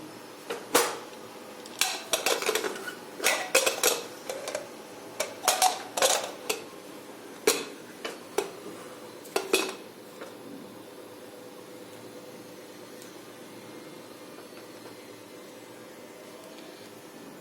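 A pressure cooker lid being handled and closed over masoor dal, a run of sharp metallic clanks and clicks in irregular bursts, then quiet background hum.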